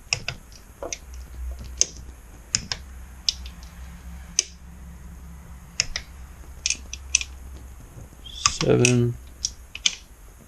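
A wrench clicks sharply as bolts are torqued down on the engine case cover of a 2009 Kawasaki ZX-10R motorcycle, with isolated ratchet ticks at irregular intervals and a man counting between them.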